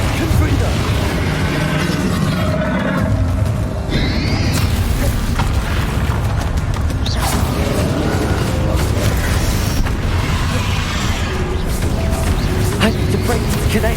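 Confringo fire spells going off in a Hogwarts Legacy final boss fight, a steady barrage of booming blasts and crashes layered over dense battle noise, loud and continuous.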